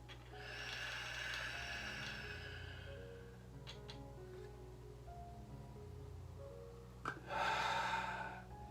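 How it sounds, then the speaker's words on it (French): A deep, steady inhalation drawn through the mouthpiece of an incentive spirometer, airy and close, with a longer breath early on and a stronger rushing intake near the end over a low steady hum. "On met dans la bouche, puis on inspire."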